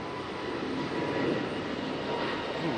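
A Frontier Airlines jet departing Raleigh-Durham International Airport, a steady broadband engine roar that holds loud and continuous throughout with no voices.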